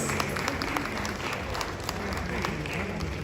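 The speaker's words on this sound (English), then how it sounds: "Shall we give her a round of applause?" A crowd claps in steady applause, dense and continuous, with some voices mixed into the clapping.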